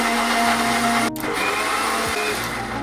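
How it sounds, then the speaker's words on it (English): A kitchen blender making milkshakes runs with a steady, loud motor whir throughout, briefly cutting out for an instant partway through before resuming. "I don't want to use the blender more than I need to"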